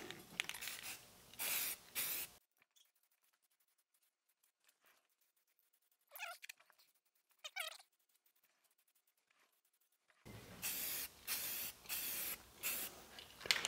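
Aerosol spray paint hisses onto car whitewall tyres during Buick maintenance in several loud, close bursts, with a long quiet stretch between them and faint cat meows in the middle.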